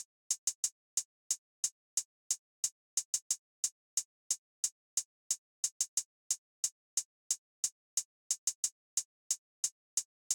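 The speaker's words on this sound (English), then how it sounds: "I played this very simple hi-hat pattern that went perfectly with the rest of the drums" A trap-style hi-hat pattern ticks crisply and evenly, with quick rolled triplet bursts between the steady hits, thin and bright with no other drums heard.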